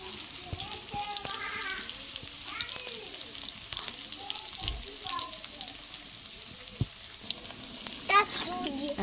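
Potatoes frying in oil in a pan for egg potato curry, a continuous close sizzle with occasional stirring clinks under intermittent talking.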